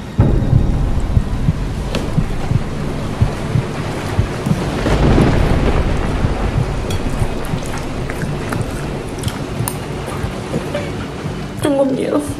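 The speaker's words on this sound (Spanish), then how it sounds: "¡Ay, ese trueno!" A storm at home brings rolling thunder that builds to a heavy rumble midway and fades, over steady rain drumming outside.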